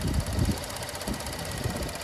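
A 2014 Buick LaCrosse's 3.6 liter V6 idles nearby with a low, even rumble and slight pulsing throughout.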